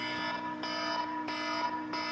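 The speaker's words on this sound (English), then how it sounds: "Sorry about the alarm." An alarm sounds steadily and loudly, a harsh buzzing tone repeating in pulses about every two-thirds of a second, with nothing else heard.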